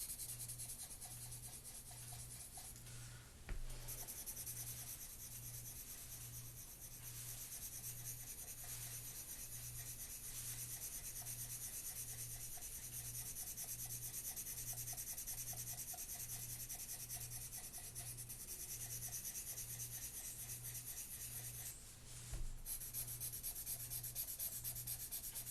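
Charcoal rubbed across paper while shading a drawing up to the taped edge, giving a steady, continuous dry scraping that runs nearly unbroken, close and fairly quiet, with a faint rhythmic low pulse underneath and no talk.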